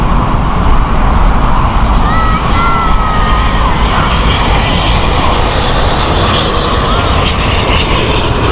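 An old aircraft, 23 years in service, lands on Heathrow's runway 27 left with a loud, sustained engine roar and a faint whining tone. A voice can be heard faintly beneath the noise.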